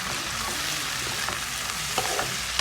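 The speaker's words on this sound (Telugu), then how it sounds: "ఇక్కడ ఆనియన్స్ ఏమో ఫ్రై అవుతుంది," Onions fry in a pan for gongura chicken, a continuous close sizzle with intermittent scraping stirs and a few louder crackles near the end, no voices.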